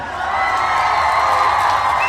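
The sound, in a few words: audience applause and cheering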